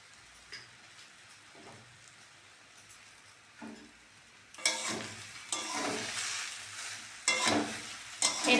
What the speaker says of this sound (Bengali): এরমভাবে নাড়তে নাড়তে ঝুড়ো হয়ে যাবে।